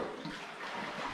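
Seawater gurgles and sloshes inside a rock crevice on a Baja island shore in Loreto Islands National Park, a close, continuous bubbling wash with no talking.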